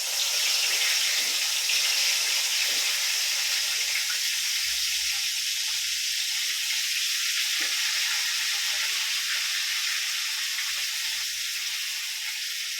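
Brinjal pieces frying in hot oil in a pan on a gas stove, a continuous close, loud sizzle and crackle with little variation throughout.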